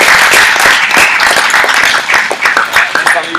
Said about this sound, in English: Right, big round of applause for these guys.